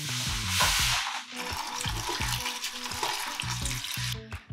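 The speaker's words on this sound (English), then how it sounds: "you will see me rinse out the quinoa really quick" Quinoa is rinsed in a strainer under running water, making a steady, close, rushing splash that hisses continuously for several seconds and cuts off near the end. A low, pulsing tonal background sits underneath.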